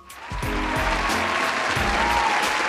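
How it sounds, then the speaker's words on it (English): Audience applause at an awards celebration, swelling quickly from a quiet start into a sustained, even roar of clapping, with low thumps of music beneath. "Let's give them a big round of applause."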